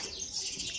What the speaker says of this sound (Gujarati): એ ચકલી પાણી પીવા માટે આવી.